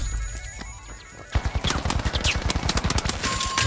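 Video game gunfire in a firefight, starting after a quieter lead-in with a sudden burst of rapid automatic shots, then sustained close, loud fire with no talk.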